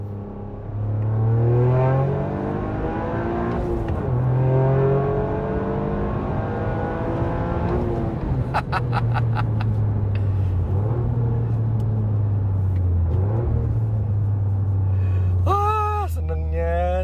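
Interior cabin sound of a Toyota GR Yaris fitted with a Remus exhaust: a deep, steady engine drone with rising and falling revs, heard from inside the car, with some gear shifts and a brief high whine near the end.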